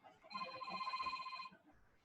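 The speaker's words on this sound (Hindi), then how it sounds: "होल्ड करो, फोन आ रहा है।" A phone ringing indoors: a single short electronic ring burst, steady and tonal, fairly faint and brief.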